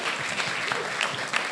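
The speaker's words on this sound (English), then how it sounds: "Let's give all these candidates one last big round of applause." Audience members at a congressional candidate forum in North Carolina clap for the candidates, a short, moderately loud burst of dense applause.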